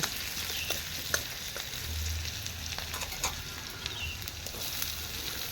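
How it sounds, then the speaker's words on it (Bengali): Chopped ginger sizzles in hot oil in a pan, a steady close hiss broken by scattered small pops and crackles, with no voices. "তারপরে দিচ্ছি আদা কুচি এগুলো একটু ভাজা ভাজা হয়ে গেলে"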